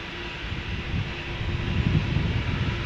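A KLM airliner departs Schiphol's Polderbaan bound for Hamburg, its jet engines giving a steady, loud broadband roar with low rumble that swells slightly over the seconds.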